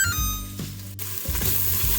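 Chopped onions sauté on high heat in an Instant Pot, giving a steady, close sizzle with brief stirring scrapes and a faint electronic hum underneath.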